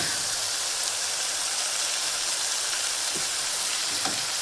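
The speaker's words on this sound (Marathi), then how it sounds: "आता ह्याला चांगले मस्त फ्राय करून घेते." Potato and soybean pieces frying in a pan for a spicy aloo soybean vadi mixed vegetable dish, a steady close sizzle and crackle throughout with faint stirring clicks, no voices.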